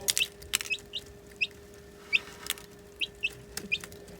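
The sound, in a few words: chicken clucking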